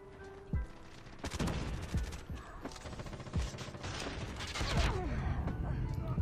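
Automatic weapon fire in the mobile shooter game Call of Duty Mobile, with a QQ9 gun in play: rapid bursts and single sharp shots with mechanical clicks over dense game noise, steady and close throughout.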